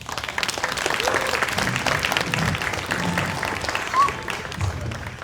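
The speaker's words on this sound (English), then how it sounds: "Let's give her a nice, rousing round of applause again." An audience at a school district volunteer awards banquet gives sustained applause, a dense wash of clapping holding steady throughout with faint crowd murmur.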